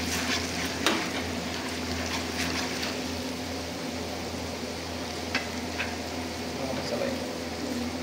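Red chutney frying in a village-style chicken kala masala curry, a steady, close sizzle and bubbling that holds evenly throughout with faint stirring clinks.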